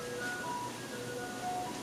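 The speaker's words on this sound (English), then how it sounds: "That's the ice cream man trying to sucker everyone in." An ice cream truck plays its jingle somewhere down the street, a thin, faint melody of sustained tones drifting over steady background noise.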